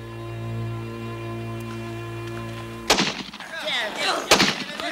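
A gunshot in a dramatized film scene set in rural Abruzzo under Fascism, a sharp loud crack that breaks off a steady hum, followed by commotion and a second sharp bang.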